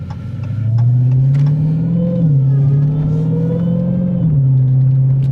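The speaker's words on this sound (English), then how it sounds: "you can just hear that supercharger whine as soon as you tap the gas." A supercharged 2019 Dodge Challenger Hellcat engine revs in a steady, loud, deep rumble that rises and falls through a couple of throttle blips, heard close and alone without talk.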